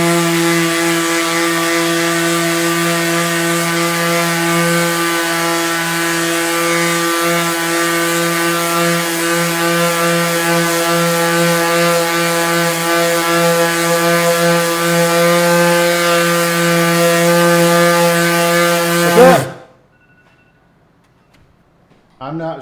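DeWALT cordless orbital sander running: a loud, steady humming motor whine held evenly for about nineteen seconds before it abruptly cuts off into near silence.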